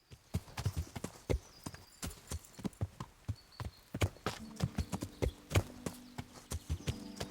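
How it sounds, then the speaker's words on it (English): Horse hooves clip-clop at a steady walking pace through woods in a video game, crisp and close, with a faint tonal hum coming in toward the end. "Just clip-clopping my way through the woods."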